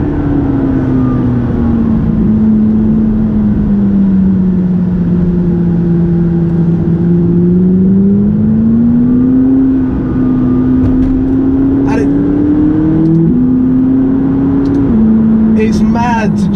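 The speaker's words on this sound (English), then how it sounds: "The 570GT and I'm using it to do the twisty and the turny country roads in Gloucestershire." A McLaren 570GT sports car drives on twisty country roads in Gloucestershire, its engine drone steady and loud from inside the cabin, rising and falling in pitch with shifts, while someone talks over it.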